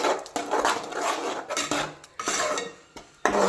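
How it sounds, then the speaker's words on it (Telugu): A utensil scrapes and clatters in a pan while spinach, ginger and green chilli paste is stirred, with repeated rough strokes and short pauses, close and moderately loud. "దీంట్లో కూడా పచ్చివాసన పోయేంత వరకు దీన్ని కూడా మంచిగా వేయించుకుందాము"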